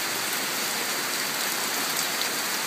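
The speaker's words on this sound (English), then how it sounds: "there are periods when it might start tipping it down like it's doing right now" Heavy rain pours down steadily during a trip to Khao Yai in Thailand, a dense, even hiss with no pauses and no voices, close and constant throughout.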